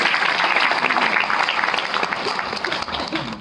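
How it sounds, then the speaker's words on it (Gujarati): A room of teachers at an educators' gathering clap for themselves, a dense burst of applause that holds steady and then gradually thins and fades toward the end. "તાળીઓ પણ પોતાના માટે તાળીઓ"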